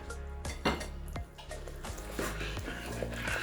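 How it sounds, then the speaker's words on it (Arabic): A ladle knocks and clinks against a pot of about two kilos of boiling honey on the stove: several irregular metallic clinks and scrapes over a bubbling background, up close. "ابتدى اتعامل بالمغرفة بقى"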